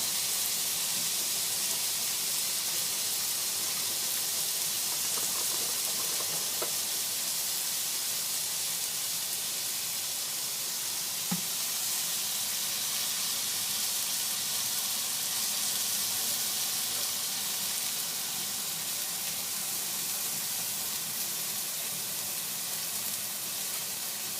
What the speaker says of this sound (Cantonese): 我哋啱啱反完之後咧，咁大概呢邊我哋煎多分零鐘度咧